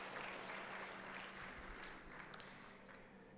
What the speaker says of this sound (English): Come on, guys, one more round of applause for these lovely gentlemen.